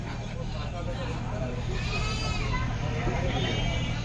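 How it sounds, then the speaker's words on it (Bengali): A Black Bengal goat bleats at a busy outdoor Qurbani cattle market, a wavering cry rising over constant crowd chatter and nearby voices. "ব্ল্যাক বেঙ্গল পাঠা"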